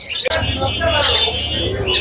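Lovebirds chirp and tweet at the Mirpur 1 bird market, bright overlapping calls close by, mixed with crowd babble and someone talking over them.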